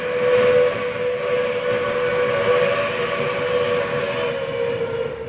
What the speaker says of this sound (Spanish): El ferrocarril se convirtió en su principal instrumento de trabajo.